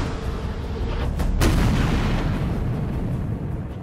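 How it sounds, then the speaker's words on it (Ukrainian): Military gunshot during combat, a single sharp, loud boom with a heavy low rumble that lingers and rolls on for a few seconds over dense background noise. "Постріл!"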